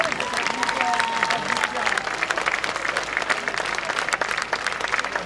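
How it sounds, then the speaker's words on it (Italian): An audience at an international folklore festival in Lavello applauds warmly, a continuous crackle of many hands clapping with scattered crowd voices mixed in throughout. "Facciamo ancora un applauso."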